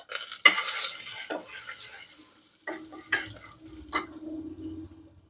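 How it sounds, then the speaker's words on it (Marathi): Ginger, garlic and cumin fry in a ladleful of oil in a pan as a spoon scrapes and clanks against the metal, a few sharp stirring knocks over a soft sizzle. "एक पळी तेल टाकलं. आलं, लसूण, जिरे,"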